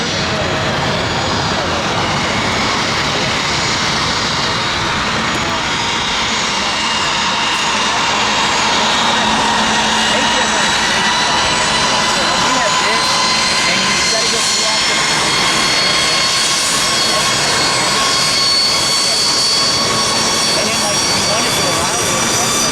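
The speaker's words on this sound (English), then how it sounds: "Quite a few planes." Jet airliners landing one after another at Atlanta airport, a steady loud roar of engines with whining tones that swell and fade through the stretch, with a voice talking over it.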